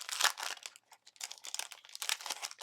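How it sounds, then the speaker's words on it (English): Crinkly plastic bags being pulled open while sorting subscription-box craft stamps, close crackling and crumpling in bursty clusters with a short pause in the middle, no talking. "I have a hard time getting into these plastic bags."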